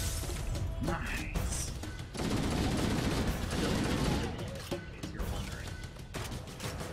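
Gunfire and a frag grenade blast in Halo: CE come as rapid shots and a heavy burst with crashing debris, fairly loud and close.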